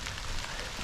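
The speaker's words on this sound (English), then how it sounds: "to see that it really is raining, and I really am out in it. It's coming down." Steady rain coming down around a hiker on the Foothills Trail, a dense, even hiss of drops on surfaces that stays constant and close throughout.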